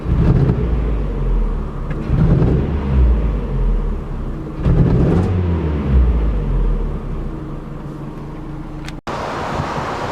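A Mazda MX5 with coilovers and a small Powerflow back box rumbles steadily at idle and low revs, loud and close, with a couple of swells in engine note and no talk.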